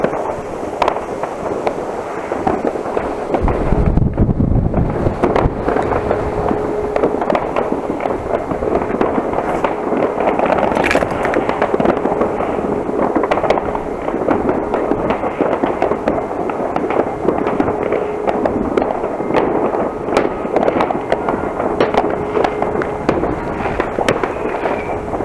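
New Year's Eve fireworks and firecrackers burst continuously for the whole stretch, a dense, loud barrage of crackling bangs and booms outdoors at midnight.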